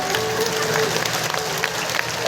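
A crowd at a Ram Katha religious gathering applauding, a steady wash of clapping with a voice speaking over it.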